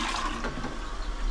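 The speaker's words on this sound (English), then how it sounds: "Do another flush." A newly installed toilet flushing, a loud continuous rush of water swirling and draining close by with no voices.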